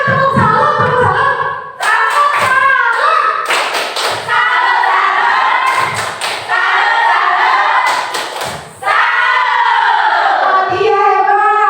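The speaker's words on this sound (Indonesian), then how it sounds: "Coba tepuk salam, tepuk salam." Elementary school children perform a tepuk salam clapping routine in class, with loud rhythmic group claps and thumps in bursts, and voices chanting along throughout.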